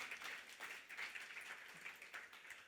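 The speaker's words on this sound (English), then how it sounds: "You can clap for that." Press conference attendees applaud together in a faint, distant, continuous wash of clapping that holds evenly throughout.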